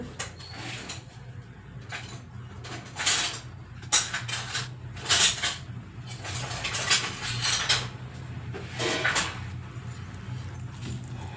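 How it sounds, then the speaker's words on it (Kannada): A knife cuts onions on a plate with a run of sharp, clinking taps and scrapes that come in uneven clusters. The cutting sits close against a low, quiet kitchen background. "1-2 ಈರುಳ್ಳಿ ಕಟ್ ಮಾಡ್ಕೊಂಡ್ರೆ ಆಯಿತು"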